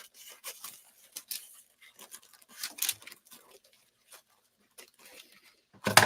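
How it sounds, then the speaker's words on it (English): Scissors snip and trim printable paper for a home decor tiered tray craft, with soft, close, irregular cuts and rustles separated by pauses. "I am going to actually use my scissors to trim up and around"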